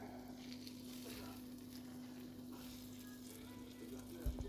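Steady sizzling of horse mackerel frying in hot oil in a pan, a continuous crackly hiss with a low hum underneath and a brief clatter near the end.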